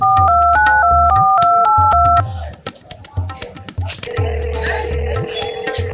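Telephone keypad tones beep in a quick rhythmic run of dialed digits, loud and close, followed by a ringing tone under speech.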